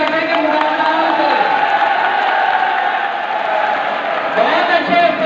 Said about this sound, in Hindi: सेकंड ईयर की तरफ से तालियों की आवाज भी आ गई